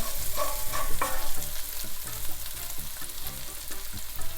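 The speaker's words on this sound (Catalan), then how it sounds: "Aquí se'ns ha sofregit ja, la ceba ja ha quedat ben sofregida." Onion sautéing in a frying pan hisses and sizzles steadily at close range, with occasional stirring scrapes and clinks over the constant frying noise and no speech.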